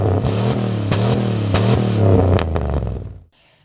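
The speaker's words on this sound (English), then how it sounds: "Maybe I'll make the exhaust a little bit fruitier" A Chevy Suburban's V8 exhaust burbles and revs, rising and falling for about three seconds before the engine cuts off into near silence.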